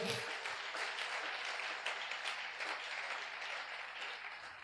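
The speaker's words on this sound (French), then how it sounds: "Est-ce qu'on peut acclamer le Seigneur pour le Saint-Esprit ce matin?" A church congregation applauding to praise the Lord, with dense continuous clapping filling the room at an even level, some voices mixed in.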